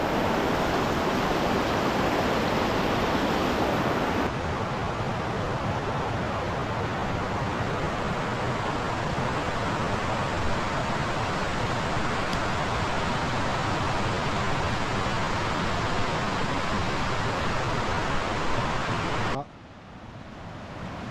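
The Salton waterfall near Lamon in Veneto cascading: a loud, continuous broadband roar of falling water, steady throughout and close by, that drops off sharply just before the end.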